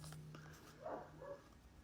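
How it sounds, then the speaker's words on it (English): A dog barks faintly in the distance, two brief barks heard about a third of a second apart over low room hum, with no one talking. "I'm trying to remain so calm about that barking."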